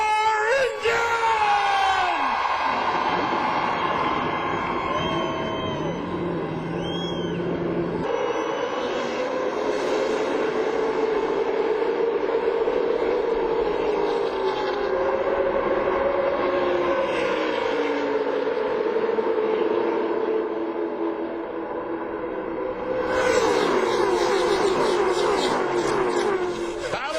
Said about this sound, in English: Gentlemen, start your engine!